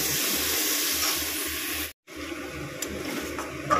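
Spice paste frying in hot oil for hilsa pulao, a close, continuous hissing sizzle broken by one brief drop to silence midway, then resuming slightly quieter.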